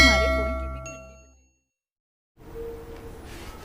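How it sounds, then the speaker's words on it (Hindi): A bright bell ding rings out and slowly fades to silence, followed after a pause by a low background hum with faint murmuring. "सब्सक्राइब करते वक्त ना घंटी बजा देना"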